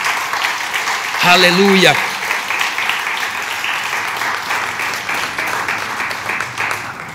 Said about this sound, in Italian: Applauda il Signore.